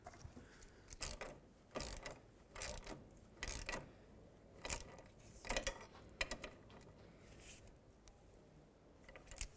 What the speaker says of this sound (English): now with our 13mm socket, once they're all started, let's snug them all up